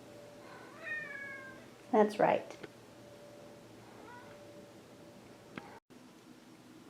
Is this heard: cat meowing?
yes